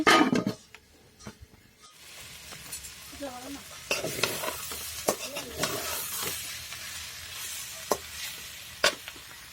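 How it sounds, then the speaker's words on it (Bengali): Mixed vegetable baji fries in a pan, being stirred with clattering utensil scrapes and a steady sizzle; a lid clank opens the sequence, then irregular stirring knocks continue up close. "কিছু সময় পর পর ঢাকনাটা উঠিয়ে আবার নেড়েচেড়ে আবার ঢাকনাটা লাগিয়ে দেব।"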